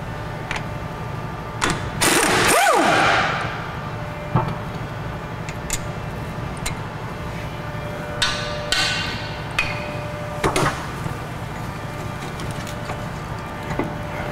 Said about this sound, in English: This is a 19mm socket to take the caliper off the bracket.